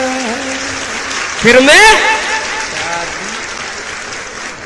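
Audience applause erupts at a comic political song performance, a loud burst of clapping rising partway through and fading, with a singing voice heard before and after it.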